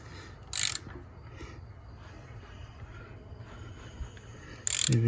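Honda CR-V AWD engine being turned over by hand during a build, a low rhythmic mechanical churning of compression strokes with a couple of sharp metallic clicks, no talking.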